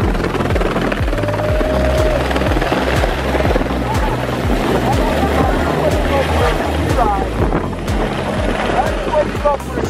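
A helicopter flying for heli skiing gives a loud, steady rotor thump with a low chop, heard close up in the cabin alongside wind buffeting. Voices can be heard faintly under the noise.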